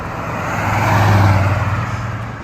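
A 1969 AMC Rebel Machine muscle car engine drones loudly and steadily with a deep low rumble, swelling slightly in the middle of the sound without any talk.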